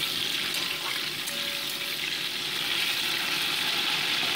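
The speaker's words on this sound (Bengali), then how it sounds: "এবার কড়াইতে রিফাইন্ড অয়েল গরম করে বসিয়ে দিয়েছি আর তার মধ্যে নুন হলুদ ভাপানো কপির টুকরোগুলোকে জাস্ট একটু সটে" Steamed cauliflower pieces, salted and turmeric-coated, sauté in hot refined oil in a wok, giving a steady, close, loud sizzle with light stirring scrapes throughout and no talking.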